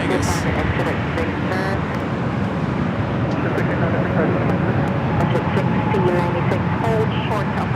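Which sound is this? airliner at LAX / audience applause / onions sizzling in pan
airliner at LAX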